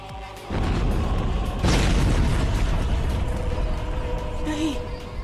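A loud, deep explosion boom bursts in after a brief lead-in and rolls on as a sustained rumble with debris-like noise, in a dramatic anime battle scene from Attack on Titan.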